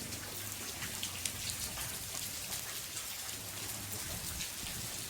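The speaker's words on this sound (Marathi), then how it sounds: "सकाळपासून पाऊस पडत आहे" Steady, dense rainfall pattering on surfaces, a continuous hiss with occasional louder drops, no voices.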